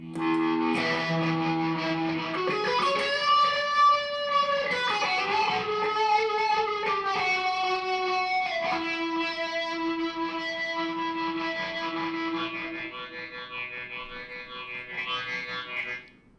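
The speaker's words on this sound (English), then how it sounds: "I'll add the distortion for fun." Electric guitar with heavy distortion plays sustained, gritty notes and bends, ending in a wavering vibrato, loud and alone.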